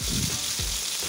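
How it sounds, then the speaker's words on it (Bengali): Sea fish (kakila) sizzles steadily as it fries in oil in a pan, a close, continuous hiss with a few low stirring or scraping sounds. "এখন আমি মাছগুলো একটু ভেজে নিব আর কি"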